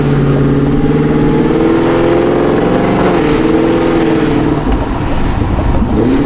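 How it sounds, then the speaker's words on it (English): A Cadillac Escalade-V with a built engine, heads and an aggressive cam idles with a deep, loping chop, loud and close, with a few rev changes and no talking. "It's crazy to hear an Escalade sound like this"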